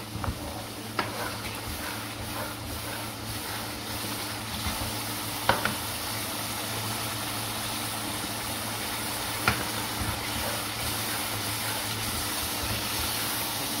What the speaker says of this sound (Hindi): इसको मैं अच्छी तरह ऑयल में फ्राई करूँगी